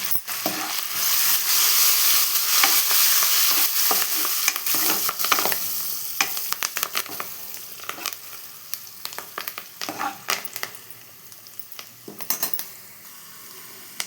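Curry leaves tossed into onions frying in hot oil in a pan, a loud continuous sizzle and crackle with stirring and scraping of the utensil against the pan, gradually settling quieter toward the end, no voices.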